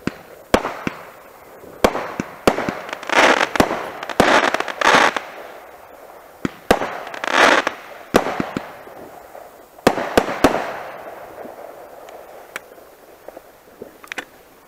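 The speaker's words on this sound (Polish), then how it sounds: "Fajerwerki powinny być zabronione." New Year's fireworks and firecrackers explode outdoors, a series of loud, irregular bangs and crackling bursts, some near and some farther off, with no talking.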